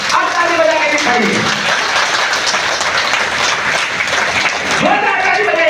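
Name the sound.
audience applause at a political meeting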